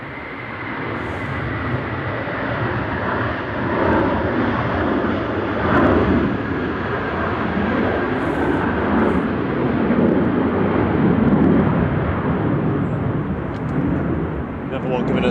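An Airbus A321 Classic takes off for Barcelona from gusty Manchester Airport. A loud, sustained jet roar swells and holds for about fifteen seconds, with a faint voice now and then over the engine noise.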